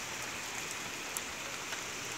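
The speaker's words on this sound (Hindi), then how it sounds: "देखो क्या मौसम हो गया, बारिश ही बारिश इस समय।" Heavy monsoon rain pours steadily outdoors, a dense continuous hiss of drops on surfaces with faint scattered pattering, loud and unbroken, no voices over it.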